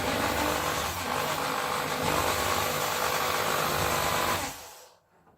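Power drill boring new holes into a painted, previously filled interior wall, a loud continuous whirring grind held steady for about four seconds before stopping.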